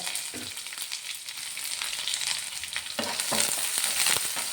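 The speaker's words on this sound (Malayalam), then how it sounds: "ഇനി ഇതൊന്ന് നന്നായിട്ട് മൂപ്പിച്ചെടുക്കണം ചുവന്നുള്ളി ഒരു ഗോൾഡൻ കളറായി" Dried red chillies, curry leaves and chopped shallots frying in hot oil in a pan, a steady crackling sizzle with occasional stirring clatter, growing slightly louder toward the end.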